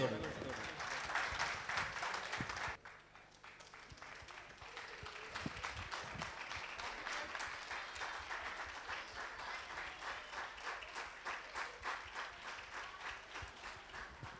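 Applause from the audience at a Kuwait Tamil Sangam 2011-2012 inauguration ceremony and music programme: steady, fairly faint crowd clapping that fills the whole stretch, briefly dipping near the start before carrying on evenly.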